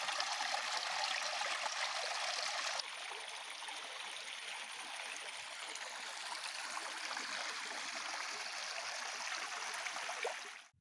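A natural spring flows steadily from a pit with a soft rushing trickle, fairly quiet and continuous, slightly louder for the first few seconds before settling.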